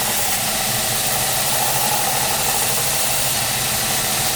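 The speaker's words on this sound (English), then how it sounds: "it's amazing how fast, with not too much pressure, this rotary platen cleans stuff up" An old 120-grit belt on a rotary platen grinder runs against the back of a blade with a loud, continuous, even whir and hiss that holds steady throughout.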